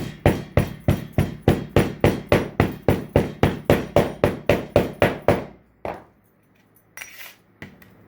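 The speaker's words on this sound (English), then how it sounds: "And hammer to compress." Steady, evenly spaced hammer blows pound casting sand into a flask about twenty times in a quick rhythm, sharp and close, then stop, leaving a few lighter knocks and scrapes.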